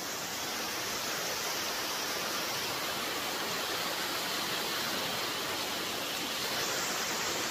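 Clear water flowing at a rocky spot in the Philippine countryside, heard as a steady, dense broadband rush with no pauses, like a small waterfall or fast stream, with no voices.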